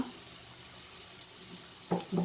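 Sliced onion frying in a pan with crushed ginger and garlic added, a steady low sizzle throughout, then a couple of brief louder scraping stirs near the end.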